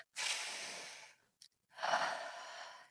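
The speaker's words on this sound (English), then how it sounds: "And Nibbles, well, he took a deep breath." A deep breath from Nibbles, a small animal character in a children's May Day story: a long, breathy intake, a short pause, then a slow, full exhale, close and clear with no talking.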